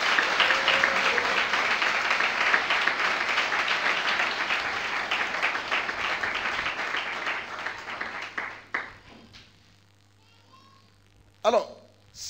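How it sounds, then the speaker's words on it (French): A church congregation applauds loudly and steadily for the Holy Spirit, sustained clapping that fades out near the end, followed by a brief burst of voices. "On acclame bien le Saint-Esprit."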